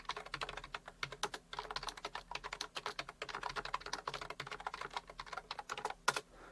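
Fingers type rapidly on a computer keyboard, a dense stream of quiet, close keystroke clicks with an uneven rhythm and no talking.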